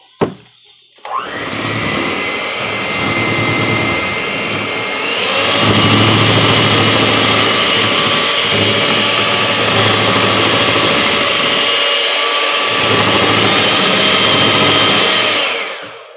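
An electric mixer whips soap frosting in a cup set in ice, running as a loud steady whir for about fifteen seconds after a brief start-up, then cutting off.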